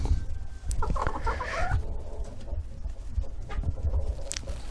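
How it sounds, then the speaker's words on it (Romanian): Chickens clucking and a rooster calling nearby in a poultry yard, with a brief burst of louder squawking amid steady barnyard noise. "Ia uite cocoșul."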